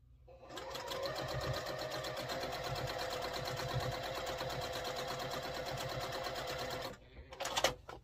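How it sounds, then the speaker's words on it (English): Sewing machine runs a quarter-inch seam on a quilt block in one continuous, moderately quiet whirring burst of about six seconds, then stops with a brief clatter at the end. "And just sew 1/4 inch down."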